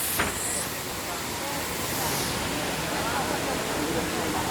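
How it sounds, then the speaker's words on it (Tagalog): Tumalog Falls in south Cebu pours in a constant broadband rush of falling water, an even hiss that fills the whole stretch, with a brief voice near the start. "This is Tomalog Falls."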